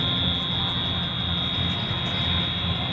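A fire alarm in the horror video game Dread blares as a steady, loud electronic buzzing tone that holds without pause against a dense background rumble.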